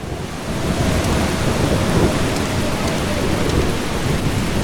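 Thunderstorm with rain in the video game Eastshade: a dense, steady roar of heavy rainfall with low thunder rumbling underneath, loud and continuous throughout with no voices.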